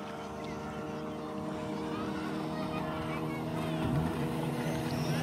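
A tourist motorboat ride on the sea near Tsunami Island at Tarkarli, Malvan, Sindhudurg: a continuous low engine drone and water wash, with faint voices in the background.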